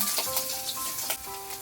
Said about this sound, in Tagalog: magagisa naman tayo ng sibuyas at saka bawang